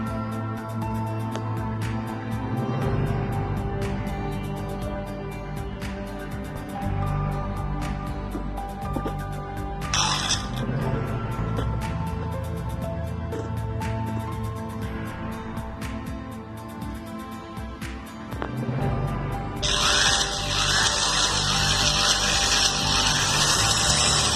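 A power drill bores holes into a wall while an LED tube light is being mounted, giving a continuous grinding whine throughout with a brief harsh burst midway and a louder high-pitched run near the end.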